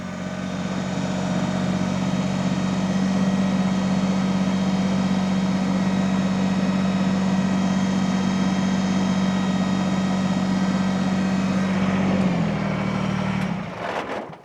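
A tractor engine idles and holds a steady, droning hum while backing up toward a Countyline PHD100 post hole digger, loud and close, until near the end, when the pitch dips and it cuts off with a few clunks.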